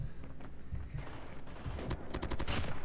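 Automatic gunfire rattles in a first-person shooter match, with steady background combat noise and a quick burst of sharp, close shots near the end.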